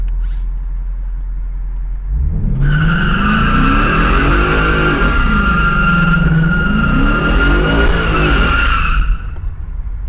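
Car doing a burnout on private property with traction control off: engine roars up and tires squeal loudly and continuously for several seconds, close by, then cut off abruptly.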